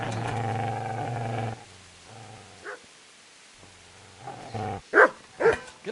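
Dog barking at the player in the medieval video game Kingdom Come: Deliverance, several sharp close barks clustered near the end after a stretch of low rumbling background sound.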